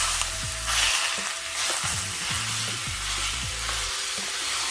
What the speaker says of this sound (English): now, we're going to get this browned off